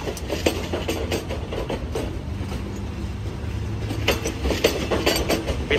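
Thaksinarat express No. 31, an all air-conditioned sleeper train, rumbles steadily with rolling wheel clatter and low mechanical hum, fairly close and continuous throughout.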